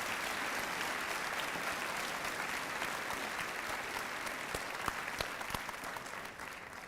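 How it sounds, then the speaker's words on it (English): Sustained applause from an audience at a Veterans Day ceremony, dense steady clapping for several seconds with a few sharper individual claps near the end as it begins to fade. "join me again in giving one more round of applause for the guests of today's ceremony"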